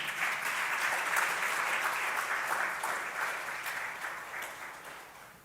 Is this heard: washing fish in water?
no